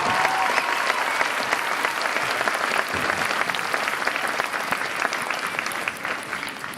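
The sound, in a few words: audience applause at a school arts festival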